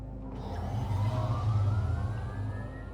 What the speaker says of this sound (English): I guess the audio is a way of telling you that the engine is on